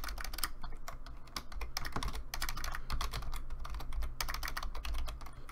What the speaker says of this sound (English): I think I'm handicapping myself by typing this.